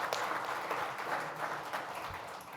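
Audience applause at an educational symposium on Parkinson's disease: a steady wash of clapping from a crowd, moderately loud and even for its short length, with no speech over it.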